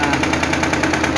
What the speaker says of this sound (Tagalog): Tingnan natin kung ano yung status ng makina, kung ayos ba yung operation nya.